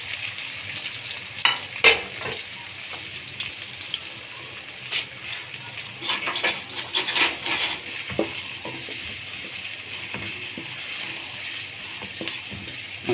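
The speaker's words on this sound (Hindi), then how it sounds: "अब हमने प्याज को ब्राउन करना है।" Onions frying in oil in a kadhai, a continuous crackling sizzle close by with uneven bursts of stirring and scraping, louder clusters in the middle and lighter scrapes toward the end, no talking.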